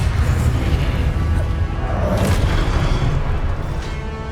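A Confringo blasting spell explodes in the Hogwarts Legacy game, a loud, sustained, booming rumble with crackling bursts layered over heavy low-end noise throughout.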